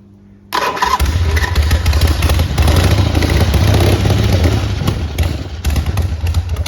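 A 1979 Harley-Davidson 1000cc Ironhead Sportster XLS with a carburetor issue fires up after a brief quiet moment, then runs loud and close with a rough, lumpy idle.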